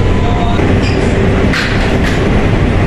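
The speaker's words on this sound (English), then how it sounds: "This is a Flushing Main Street bound 7 local train." A New York City subway 7 local train bound for Flushing–Main Street runs loudly and steadily near Queensboro Plaza, a continuous rumble of wheels and car noise with faint squealing, with no talk over it.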